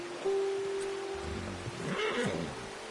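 A horse in Red Dead Redemption 2 lets out a single clear whinny that rises and trails off, heard fairly close over a faint rainy outdoor ambience with no speech.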